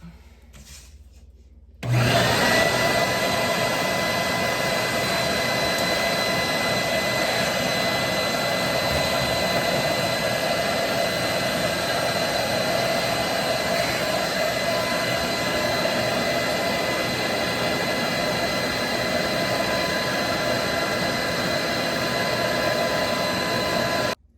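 A sandblaster's vacuum suction switches on after a brief quiet moment and runs as a loud, steady roaring whoosh with a high whine, unbroken for the rest of the stretch.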